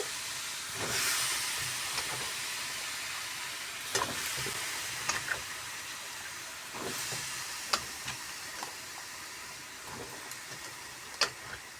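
Mixed vegetables (a five-vegetable mix) cooking with spices in a pan, giving a steady sizzling hiss with occasional sharper crackles and stirring clicks, close and continuous without talk.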